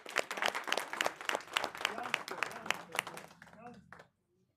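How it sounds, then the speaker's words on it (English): An audience applauds a couple married thirty years: close claps with cheering voices mixed in, going on for about four seconds before stopping abruptly into near silence. "let's give him a round of applause for 30 years"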